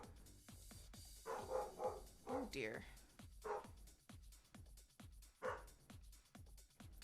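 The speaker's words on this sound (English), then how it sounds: "Got a dog losing her mind." A dog barks repeatedly in the distance, a string of muffled woofs and yips under close speech and rhythmic clicking from a Classic Tetris game.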